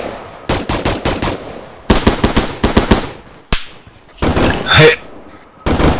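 Rapid bursts of rifle fire crack out repeatedly during a military field exercise, loud and close in clusters with short pauses between, and a single shouted voice cuts in briefly.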